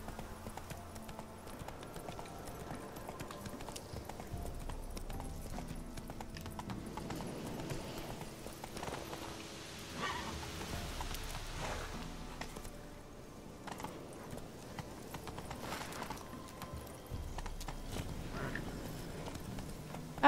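Hooves of a wild horse galloping in The Witcher 3, a steady rapid clip-clop that runs the whole way through, close and moderately loud over low ambient game sound.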